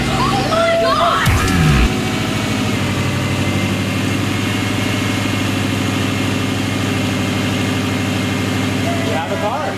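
A Subaru Impreza GC8 with a swapped-in blobeye STI engine idles steadily with a low, even rumble throughout, and voices can be heard briefly near the start.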